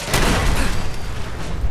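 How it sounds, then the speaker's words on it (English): A dense barrage of booming explosions and gunfire in Fallout 4's Automatron DLC, loud and chaotic with overlapping blasts. "Jesus Christ, so many explosions."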